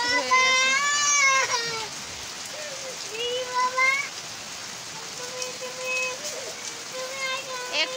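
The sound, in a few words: heavy rain falling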